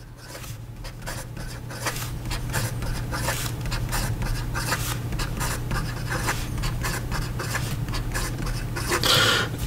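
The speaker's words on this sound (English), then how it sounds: "And in regard to some fast writing," A Sailor 1911 Standard fountain pen writes quickly on paper, giving a close, steady scratchy rasp of rapid strokes in a dense rhythm that runs for about ten seconds over a low background hum.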